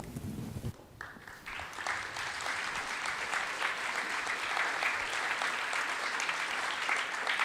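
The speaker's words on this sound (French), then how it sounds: "Ces applaudissements pour François-Xavier Bellamy" Warm audience applause for François-Xavier Bellamy after his talk at an evening conference on a culture of life. It starts after a brief spoken moment and builds into sustained, even clapping that fills the room for several seconds.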